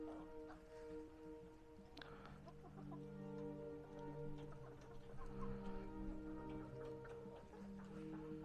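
Backyard chickens on a small homestead farm cluck and murmur close by in a steady, soft chorus, with small scattered knocks and rustles around them.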